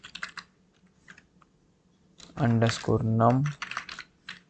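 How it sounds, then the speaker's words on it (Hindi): Keystrokes on a computer keyboard as a program filename is typed, a quick patter of clicks in bursts before and after someone speaks in Hindi in the middle. "प्रोग्राम का नाम टाइप करेंगे"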